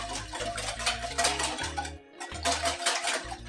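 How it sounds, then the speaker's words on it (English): Batter for baked vegan blood orange donuts is whisked in a bowl, producing a quick, steady rattling clatter of the whisk against the bowl's sides with a brief pause midway, close and fairly quiet. "And then just whisk that."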